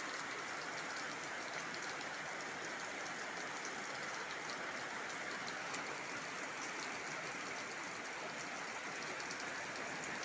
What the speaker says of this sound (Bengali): দেখতেই পাচ্ছেন মুষলধারে কিন্তু বৃষ্টি পড়ছে